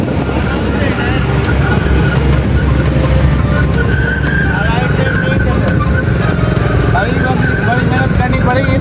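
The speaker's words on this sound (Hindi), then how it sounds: "भाई गाड़ी स्टार्ट हो गई" Mercedes car engine running steadily right after a push start, a continuous close rumble with voices talking over it throughout.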